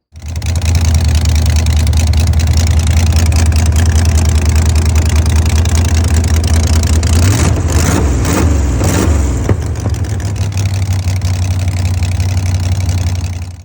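A Formula 350 street/strip project car's engine idles steadily with a deep, rumbling burble, close and loud, briefly wavering in the middle before settling back to an even idle.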